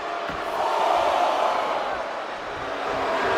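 Arena crowd noise in a wrestling video game, a steady broad roar of spectators with murmuring and shouts holding at an even level throughout.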